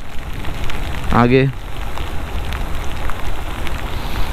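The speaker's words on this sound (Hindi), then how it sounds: "और साथ में बारिश भी है" Steady rain falls throughout in Sunder Nagar during a monsoon road trip stalled by landslides, a constant close hiss, while someone speaks briefly over it.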